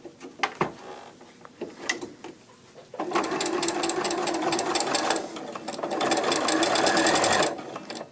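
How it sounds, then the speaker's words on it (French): A sewing machine runs a long basting stitch across the front pieces of a jacket, starting after a few scattered handling clicks and then racing steadily and loudly for several seconds before stopping. "je vais venir faire un point de faux fil pour tenir mes 2 morceaux du devant"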